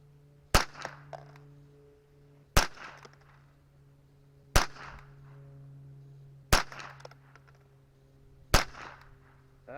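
Five sharp .22LR pistol shots from a Browning Pro-22, evenly spaced about two seconds apart, each a loud crack with a brief ringing tail over a steady low hum, no talking.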